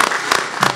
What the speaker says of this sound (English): Let's give them a round of applause for